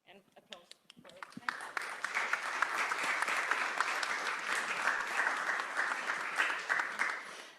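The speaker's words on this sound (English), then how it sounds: "And applause." Conference audience applauding at the close of a panel session on light pollution, a few scattered claps building into steady, dense clapping that fills the room for several seconds, with a voice briefly audible over it.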